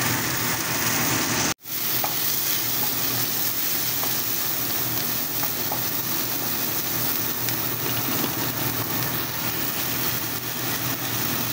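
Onion and mushroom sauté in a hot pan for a creamy mustard mushroom chicken dish, giving a steady, dense sizzle after a brief sharp clatter early on, with no voices.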